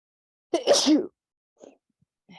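A single sharp sneeze bursts out nearby during an online screen-sharing meeting, followed by quiet silence with a couple of faint small sounds.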